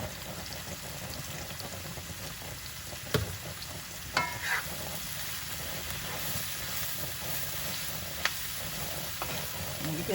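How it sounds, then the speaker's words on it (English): Mushrooms sautéing in a pan for cauliflower fried rice with spinach and already-translucent onion, a soft, steady sizzle with occasional clinks and scrapes of a utensil, fairly quiet and close, without talking. "Sauté the mushroom"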